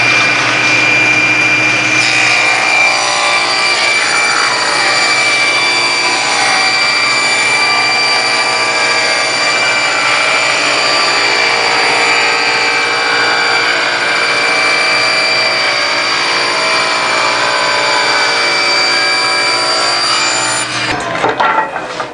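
A power saw rips poplar into 1.5-inch trim strips in a woodshop, producing a loud, steady whining drone that holds for about twenty seconds before winding down.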